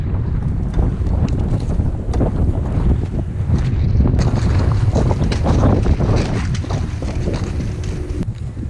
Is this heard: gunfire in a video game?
no